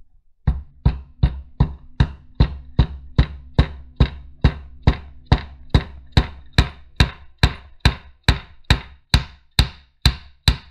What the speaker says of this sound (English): the primer is hammered in using the primer cup